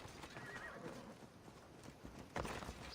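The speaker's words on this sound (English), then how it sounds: "Just gonna take this horse." Horse hooves clip-clop steadily in Assassin's Creed Odyssey, with a whinny and a louder burst near the end, the game's ambient sound running underneath and no speech.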